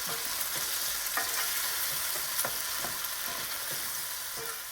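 Fresh cherry tomatoes simmer and sizzle steadily in a pan, lightly salted, with a constant close frying hiss and small scattered pops and spatters throughout.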